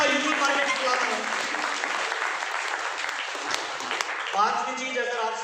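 A seminar audience claps loudly and steadily for several seconds, a dense wash of applause that fades slightly toward the end.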